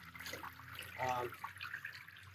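Water poured onto a patch of artificial grass drains and trickles through the turf, a soft, close liquid gurgle with a brief louder splash midway, under light background noise.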